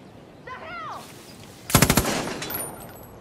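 Burst of rapid automatic gunfire in the Far Cry New Dawn video game, a loud cluster of about five quick shots after a brief chirpy sound, then fading echoing tail.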